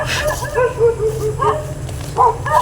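Two small guard dogs bark in short yips and bow-wows beside a sand pile at a quarry, the barks spaced unevenly over a low steady background rumble.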